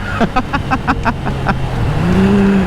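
Ducati Scrambler motorcycle at full throttle, its engine note rising steadily and loud from close by, with choppy wind buffeting at the start and a brief voice heard early on.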